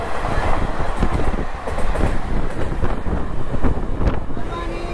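The Gujarat SF Express train rumbles into Boisar railway station, a loud, steady rolling roar of the railcars with wind buffeting the microphone throughout.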